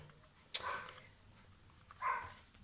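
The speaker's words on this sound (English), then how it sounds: "Now my dogs are barking because they hear Dad coming in his work van" Dogs barking indoors at an approaching work van, with two short, sharp barks a second and a half apart, somewhat distant and faint against a quiet room.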